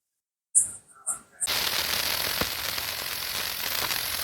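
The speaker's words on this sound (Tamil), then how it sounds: "இது வந்து மேல போய் வெடிக்கிற சாட்டு." A Diwali firecracker shot pops in a few sharp bursts, then gives way to a sustained loud hissing, crackling rush as it fires upward, fairly close.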